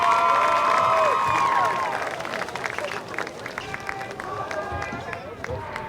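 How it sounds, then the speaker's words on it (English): A crowd at a high school football game applauds and cheers for the senior class, whistles and shouts rising over dense clapping, while a voice speaks over the noise early on. "Could everyone please give one last round of applause for this"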